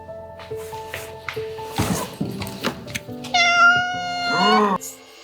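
A cat meows loudly and clearly near the end after some shuffling and light noises, its drawn-out cry rising and falling.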